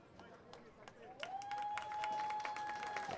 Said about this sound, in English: the crowd giving a nice hand to the Union keeper, Mike Mejia